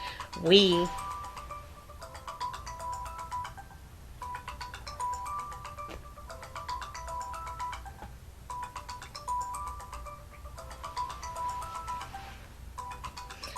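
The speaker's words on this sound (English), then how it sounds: "I turned off my phone, but it's not going off right away." Mobile phone ringing during a talk, a faint repeating electronic ringtone pattern in regular bursts with short pauses, sounding under a quiet room background.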